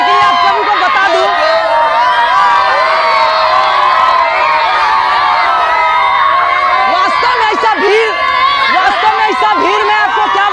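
A huge crowd of more than 10,000 gathers for a Ravana effigy burning at the Shiv temple courtyard in Jafarpur market, Paru block, making a loud, unbroken din of chatter, shouts and cheers all around.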